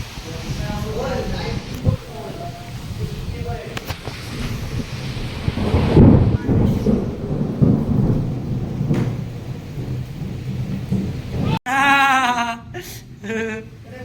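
Thunder rumbles over steady rain in a hot village, loud and close with a long rolling swell mid-clip, followed by a burst of other noise near the end.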